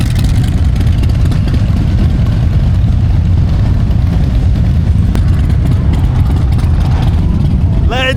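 Motorcycle engines idle at a Harley meet alongside a Honda Goldwing, a loud continuous low rumble filling the whole stretch with no breaks.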